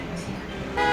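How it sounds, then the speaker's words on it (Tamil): A motorbike horn honks briefly from outside, a bright tonal toot arriving at the very end after a quiet, muffled room background. "இப்போது வெளியிலேருந்து ஒரு பைக்கு தான் ஹாரன் அடிக்குது."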